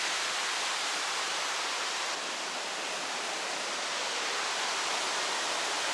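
The Pemigewasset River rushing through Franconia Notch in New Hampshire's White Mountains, a dense, steady roar of flowing water close by that holds even and unbroken throughout, with no voices.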